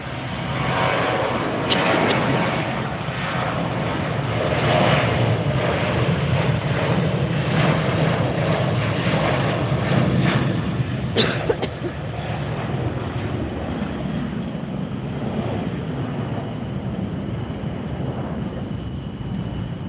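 A Boeing 737-800 roars steadily down the runway on takeoff at Tampa airport, a loud broadband jet rumble that holds strong for most of the stretch before easing slightly, with gusty wind buffeting the microphone.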